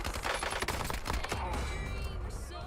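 Dravik SMG fire in the game Warzone: a rapid, dense burst of automatic shots for about a second and a half, then scattered fainter shots and rattling.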